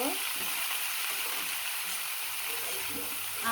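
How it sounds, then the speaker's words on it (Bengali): Red amaranth greens stir-fried with onion and garlic in a hot pan give a steady, loud sizzle and crackle that runs unbroken for the whole stretch. "আর এখানে কিন্তু আমি শাক দিয়ে দিয়ে দেবো শাক দিয়ে কিন্তু খুব সুন্দরভাবে চাড়া দিয়ে দিব"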